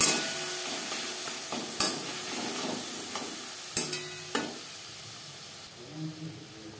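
Tomatoes cooking with salt, ginger paste and green chilli paste give a soft steady sizzle and hiss, with a spoon scraping and knocking against the pan now and then.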